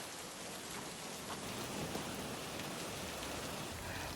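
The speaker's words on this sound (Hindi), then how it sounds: "अब बारिश तो रुकने का नाम नहीं ले रही है।" Heavy rain pours over a riverside campsite by the Ramganga River at Thal, Pithoragarh, making a dense, unbroken hiss at an even level throughout with no voices.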